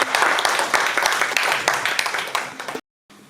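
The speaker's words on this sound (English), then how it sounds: "Can you celebrate yourself? A round of applause" A conference audience applauding, dense overlapping hand claps filling the room at steady loudness before stopping abruptly, followed by a brief quiet gap.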